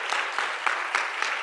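A brief round of polite applause from a seated conference audience, steady clapping swelling in soft pulses over little more than a second, with no talk.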